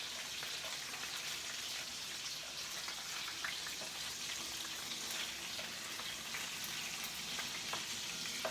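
Meatballs for subs sizzling and simmering in a pan, a steady dense crackle with scattered pops and spatters, close and even throughout.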